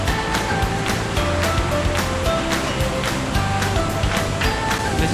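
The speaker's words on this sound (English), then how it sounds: "Listen to the water." Continuous rushing water at Iguazu Falls, a dense steady roar of falling or churning water with no voices, close and fairly loud throughout.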